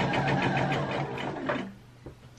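Sewing machine stitching gift bags: a fast rhythmic mechanical whir running steadily up close, then stopping abruptly, with a short clunk after.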